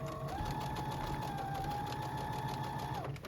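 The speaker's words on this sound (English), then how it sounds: "I would just go ahead and top stitch that all the way around, turning it as I go." A sewing machine runs steadily, top stitching around the edge of a shirt while the fabric is turned, a continuous close whirring hum that stops near the end.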